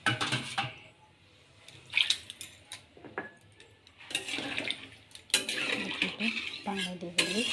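Water is poured into a pan of masoor lentil curry with drumstick and stirred. A spoon scrapes and clinks against the pan between splashy pours, close and intermittent.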